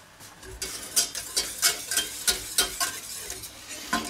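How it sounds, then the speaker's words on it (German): Egg mustard sauce is stirred in a pan, a utensil scraping in a steady rhythm of about a dozen close, distinct strokes over a faint sizzle, with no voices. "Immer schön rühren."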